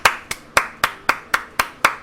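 Hands clap eight evenly spaced, sharp claps in a steady beat, close and alone with no other sound.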